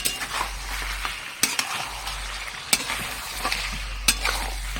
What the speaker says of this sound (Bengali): এবার একটু নাড়িয়ে দেবো